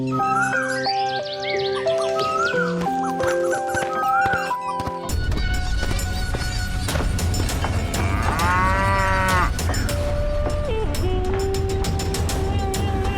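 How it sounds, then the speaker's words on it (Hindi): Cow mooing in a Hindi animated story about an old cow, a long low moo rising clearly over a musical score, with the music and effects continuing loudly throughout. "इसी तरह से गौरी जब भी घास चरकर आती तो रंभाते हुए भगवान को याद करती।"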